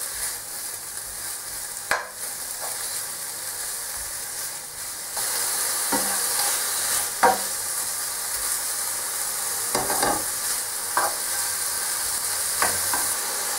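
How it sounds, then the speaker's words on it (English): Bacon rashers sizzle steadily in a pan, with a soft continuous hiss broken by several sharp scrapes and knocks as the pieces are moved around, close and fairly quiet. "Move it around a bit and let the bacon begin to brown."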